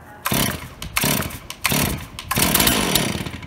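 A chainsaw set to half choke is pull-started, with several sharp bursts of engine sputter and brief revving one after another, close and loud, before it catches into a longer rough run.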